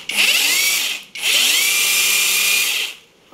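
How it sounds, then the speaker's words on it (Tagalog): A small battery-powered portable chainsaw whirs loudly at a steady high pitch in two long bursts, cutting off briefly between them before winding down. "Meron na tayong Chainsaw! Kaingay!"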